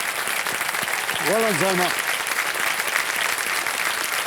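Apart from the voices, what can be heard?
studio audience applause on KBC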